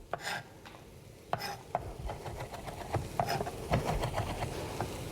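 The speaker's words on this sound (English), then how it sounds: "Starting Monday off strong with 3 big cloves of garlic. Beautiful. Give that a nice little chop" Three big garlic cloves chopped with a knife on a board in a kitchen, giving a run of quick, uneven taps and scraping strokes at close range, with faint background cooking noise and no speech.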